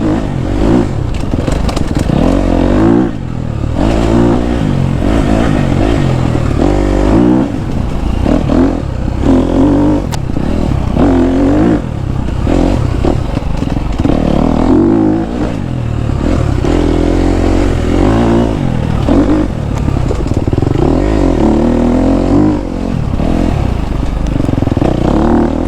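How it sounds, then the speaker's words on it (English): A KTM 250 SXF dirt bike ridden along forest trails, its engine loud and close throughout, constantly revving up and easing off through turns with rattling and scraping over the terrain, no talk. "God, this KTM corner is so freaking good, dude."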